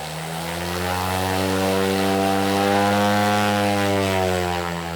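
A smaller cargo plane drones steadily on its propellers, a loud, even multi-tone hum that swells slightly and holds, heard from inside the aircraft bound for a remote Greenland ice sheet camp.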